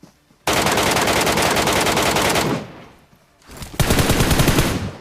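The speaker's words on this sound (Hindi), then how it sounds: "मैंने विकी को बोला कवर फायर दे जल्दी से।" Automatic gunfire in the BGMI mobile battle game rings out in two long, loud, rapid bursts, a sustained rattle broken by a brief pause, with no voices.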